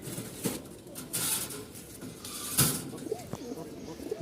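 Pigeons coo close by after a female is let out near a floor male, with low rolling calls, some wing flutters and patter, and faint voices in the background.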